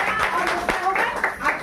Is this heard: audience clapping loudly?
yes